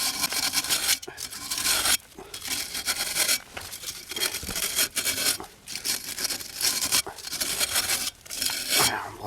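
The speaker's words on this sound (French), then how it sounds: "On brosse un petit peu de partout" Stiff brush scrubbing a car's drum brake assembly around the shoes and wheel cylinder, a steady rasping scrape in repeated strokes, close and loud, with brief pauses between bursts.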